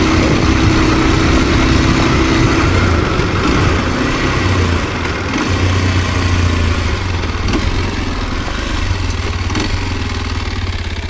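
A Kawasaki KLX230S, a small green motorcycle, idles close by outdoors with a steady, loud, even engine rumble and a slight mechanical clatter running the whole time.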